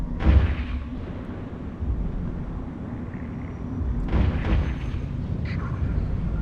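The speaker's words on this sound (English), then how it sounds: "Let's go ahead and orbit him and shoot at him." Spaceship weapons fire in the space game EVE Online, two heavy booming volleys a few seconds apart over a low rumbling hum, with fainter bursts between.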